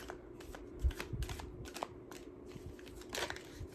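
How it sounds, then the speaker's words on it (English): Tarot cards being shuffled by hand, a close, crisp run of riffling and slapping bursts with papery crackle, uneven and slightly messy in rhythm, without talk. "I just like to shuffle your cards, and I do it a certain way."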